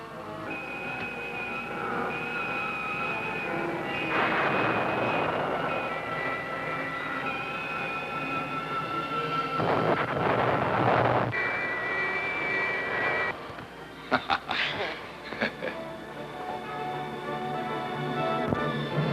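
A spacecraft engine in an old science-fiction film roars and builds thrust, a loud sustained jet-like rumble and whine that surges in waves, then breaks into bursts and crackles near the end.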